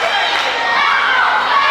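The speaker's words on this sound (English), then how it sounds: "Let's go Spike indeed. The crowd are right behind Spike Tierney." Crowd at a wrestling show in Forfar chanting and cheering for Spike Tierney, a loud dense roar of many voices filling the hall throughout.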